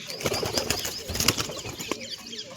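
Pigeons mobbing a scatter of peanuts flap their wings in quick bursts, a near, fluttering clatter with a few soft coos mixed in.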